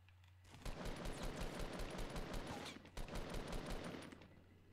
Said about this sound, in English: Right, I did hear shooting up here.